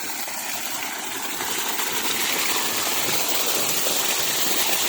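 Water overflowing from a water source on a farm pours and splashes in a steady, close, hissing rush that stays constant throughout, with no voices.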